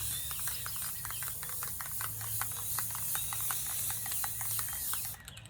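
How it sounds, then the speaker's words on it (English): A spray paint can hisses as paint is sprayed back and forth onto ceramic tile coasters, with a continuous close hiss broken by rapid rattling clicks, ending abruptly. "you just want to spray all the way across, back and forth."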